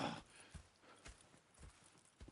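Horse hooves clip-clop at a walk in Red Dead Redemption gameplay, about five soft, evenly spaced hoof strikes at moderate distance, faint and alone.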